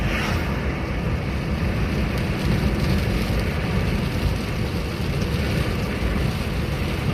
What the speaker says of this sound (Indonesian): Hujannya lumayan deras guys